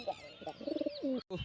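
A rooftop pigeon gives a short run of soft, throaty coos up close, a few pulsing notes rising and falling, with faint outdoor noise around.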